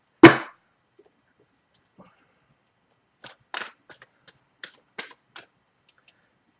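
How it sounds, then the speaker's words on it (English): Tarot cards are shuffled in a quiet room: one sharp snap, then a string of short, soft riffling flicks and taps with near silence between them. "One more shuffle."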